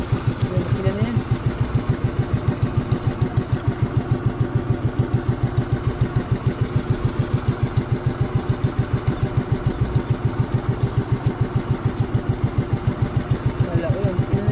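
A steady, rhythmic engine idle chugs evenly throughout, with people talking faintly over the mechanical thumping.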